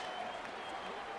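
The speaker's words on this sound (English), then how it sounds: "Crowd getting into it here at the farm" A stadium crowd in a College Football 27 video game at the Farm roars in a steady, dense wash of cheering and clapping after a point-after call, unbroken across the short moment.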